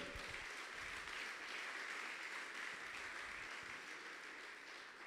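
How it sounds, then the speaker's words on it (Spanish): A church congregation applauds in sustained, even clapping that fills the space at moderate level, with no voice standing out above it. "Dale un aplauso al Señor si usted lo cree"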